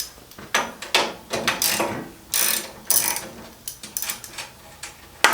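A ratchet wrench clicks in repeated bursts, backing nuts off a Yerf-Dog go kart, with short metallic ratcheting runs separated by brief pauses and the occasional clunk of metal nearby.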